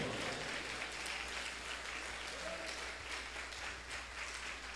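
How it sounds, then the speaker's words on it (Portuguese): Congregation applauding during a church worship service, a steady, dense wash of clapping that holds evenly for several seconds at a moderate, slightly distant level. "Só quem tem palmas, aplauda Ele aí agora."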